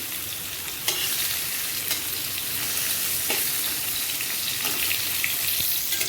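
Potato and pointed gourd frying in a pan, a steady close sizzle with occasional stirring clicks, no talking.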